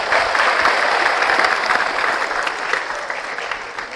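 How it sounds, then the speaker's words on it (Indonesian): Audience at a school religious talk in a hall applauding together, a thick sustained wash of many hands clapping that stays fairly loud for several seconds before easing off slightly. "Tepuk tangan buat semuanya."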